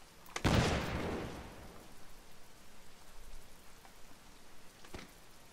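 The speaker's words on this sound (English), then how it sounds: "it's raining" Rain falling in Mount & Blade: L'aigle, a steady soft patter throughout, opened by a loud, close burst like a volley or thunderclap that fades, with a sharp crack near the end.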